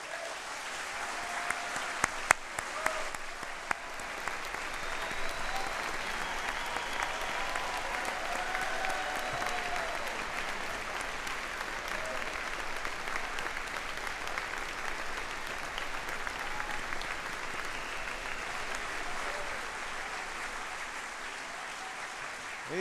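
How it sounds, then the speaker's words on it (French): Sustained applause fills a large party congress hall as the audience honours the elected Parti Québécois deputies, steady and dense throughout with a few louder claps early on and faint crowd murmur. "Levez-vous qu'on vous applaudisse."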